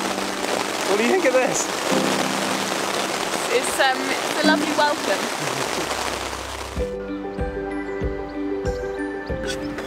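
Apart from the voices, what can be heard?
heavy rain pouring while hiking in the Swiss Alps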